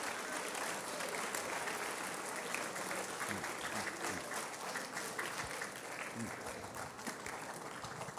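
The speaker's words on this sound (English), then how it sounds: "Give them a round of applause right now because you have not done this alone." Steady, dense applause from an audience at an eighth grade celebration, a sustained wash of clapping at moderate distance lasting the whole stretch, with faint voices underneath.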